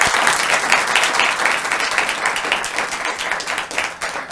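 A studio audience applauds the guests of a show about Kenya's matatu business, with loud, dense clapping that runs steadily from start to finish.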